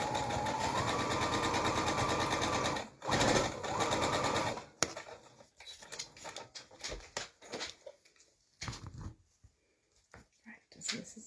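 A sewing machine stitches the side seam of a Stack n Whack kaleidoscope quilt block, running loud and steady for several seconds with a short pause. Scattered handling clatter and faint noises follow after it stops.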